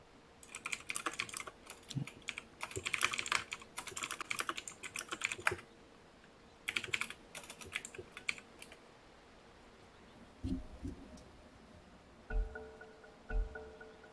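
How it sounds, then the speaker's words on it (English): Someone types on a computer keyboard during a Dota 2 esports broadcast, with quick bursts of close key clicks broken by pauses and then a few heavier thumps near the end, all fairly quiet. "I'm going to go and type that into Google Translate."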